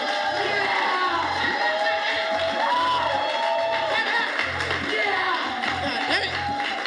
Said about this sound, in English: Clap it up one time